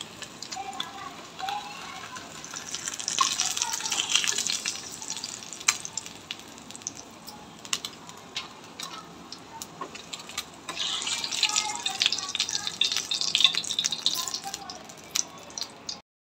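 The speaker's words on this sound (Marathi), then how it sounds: "बघा अशा प्रकारे मी सर्व पनीर शॅलो फ्राय करून घेते।" Paneer shallow frying in hot oil in a home kitchen, a steady bright sizzle with louder bursts of crackling midway and toward the end, continuing for the whole stretch with faint background noise.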